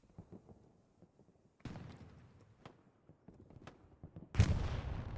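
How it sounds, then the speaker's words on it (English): A satchel charge or artillery shell explodes in the Hell Let Loose video game near a tank in Carentan, a sudden loud blast following scattered distant gunfire and thumps. "Satchel goes off right in front of the 76"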